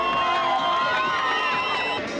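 Loud crowd cheering and shouting fills a venue at a women's boxing match, a dense, steady roar of many voices that holds throughout with no quiet gaps.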